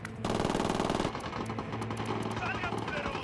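Rebels in Ghost Recon Wildlands fire sustained automatic bursts of gunfire, loud and rapid at first, then continuing as steadier shots under a dense mix of game noise.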